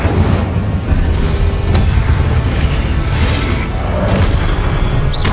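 Incendio spell explosion in Hogwarts Legacy, a loud, sustained booming roar with rumbling low end and crackling texture that continues for several seconds, with no talking.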